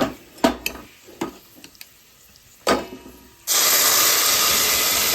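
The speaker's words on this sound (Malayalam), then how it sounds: "നമ്മുടെ മിക്സ് ഈ ഗീയിലേക്ക് ചേർത്തോട്ടിട്ട് നന്നായിട്ടൊന്ന് മൂപ്പിച്ചെടുക്കുക" Payasam mix of cooked split green gram, rice and ada is stirred into hot ghee in a pan, with several scraping clinks of a spoon against the metal, then a loud steady hiss of sizzling near the end.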